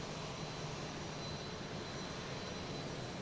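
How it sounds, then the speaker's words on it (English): A Lufthansa Airbus A340 jet on approach to Boston Logan, its engines a steady, broad far-off roar with no breaks, heard alone at low level. "I have a Lufthansa A340."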